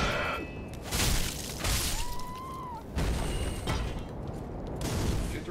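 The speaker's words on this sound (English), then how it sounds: "Did you throw fire bombs at me?" Fire bombs burst in Dark Souls III with booming, crackling explosions, several heavy hits spread across a noisy battle scene, with no talking over them.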